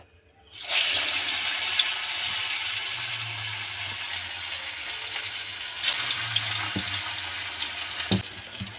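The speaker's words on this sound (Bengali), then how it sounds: "তেলটা গরম হয়ে গেছে, এবার আমি মোচার চপ বানাবো বলে যেটা রেডি করেছি, চপটা এবার তেলের উপর দেবো" A mochar chop, a banana flower croquette, is dropped into hot oil and bursts into a loud, close, bright hiss that stays steady, with a few soft knocks near the end.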